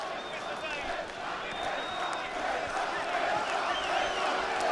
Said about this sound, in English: the chants go up from the Danish supporters